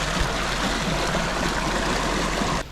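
Creek water flowing through the woods, a continuous close rushing and babbling wash at steady loudness, cutting off abruptly at the end.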